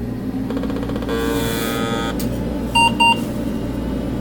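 An old computer with a dead CMOS battery powering up, with a hum and clicks, a brief electronic tone, then two short sharp beeps in quick succession, no talk.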